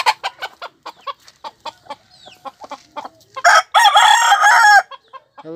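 A red rooster crows loudly and close by among clucking chickens, its long crow rising out of a steady run of short clucks.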